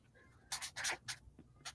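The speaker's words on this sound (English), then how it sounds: "we will write it down" Pen scratching on paper or a board as something is written down by hand, a few quick close strokes in short bursts, fairly faint.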